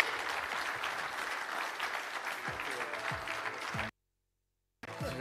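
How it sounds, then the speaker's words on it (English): Conference audience at a basketball summit claps in sustained, steady applause after a keynote speech, fairly faint and even, cutting briefly to silence before resuming. "Ladies and gentlemen, could you please join me in a warm round of applause for Casey Wasserman?"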